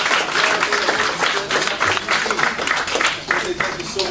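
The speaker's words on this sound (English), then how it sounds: "just give them a round of applause" Audience at a 2013 health talk on herbs breaks into applause, a dense continuous wash of clapping at fairly loud level throughout, with some crowd noise mixed in.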